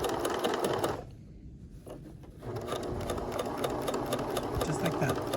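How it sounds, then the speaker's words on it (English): A sewing machine runs steadily while stitching a skirt waistband closed, with a brief pause near one second before the motor resumes its continuous, close whirring. "when you get to the body of the skirt, you just keep on sewing"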